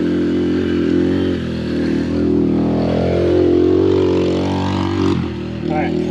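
A child's dirt bike engine runs close by at a steady, loud idle with slight swells in pitch, its rumble and buzz continuous throughout, while a voice speaks briefly near the end.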